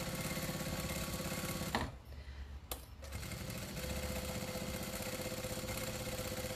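A sewing machine stitches through a cathedral-windows quilted table runner with a steady, close mechanical hum, stops briefly for about a second, then runs on evenly.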